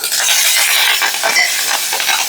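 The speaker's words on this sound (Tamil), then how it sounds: "இப்போது அந்த பச்சை மிளகா அடுத்து வெடிக்கும்" Green chilli and curry leaves sputter loudly in hot oil, a close, continuous crackling sizzle with sharp pops throughout.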